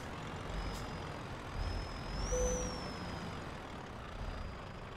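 Truck engine in Euro Truck Simulator 2, reversing a trailer into a tight parking spot: a steady low engine rumble runs throughout, with a thin whine rising and falling in the middle and a brief tone near the center.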